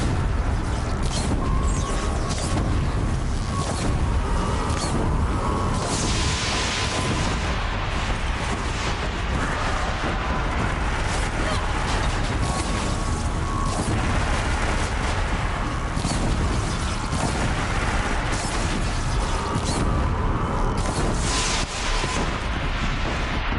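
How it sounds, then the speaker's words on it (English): Rocket-launching machine in Horizon Zero Dawn firing continuously, dense booming blasts and mechanical clatter layered into a loud, unbroken barrage of explosions throughout. "we kind of want to get rid of those rocket launcher things"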